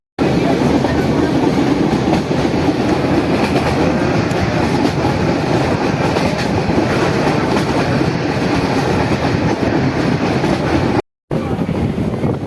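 A passenger train on the Kodinar to Bhader line rumbles steadily from inside a carriage, a loud continuous roar with rhythmic wheel clatter that runs the whole time, briefly cutting out near the end.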